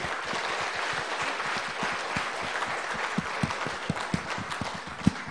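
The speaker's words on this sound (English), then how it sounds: "A big round of applause, please, to all the plenary speakers." A conference room full of people applauding the plenary speakers, steady dense clapping with some louder nearby claps popping out toward the end.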